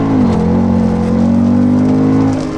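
A Mercedes SLK 55 AMG sports car gives a loud, close, sustained engine drone with a steady pitch that dips slightly early on, then holds as it drives.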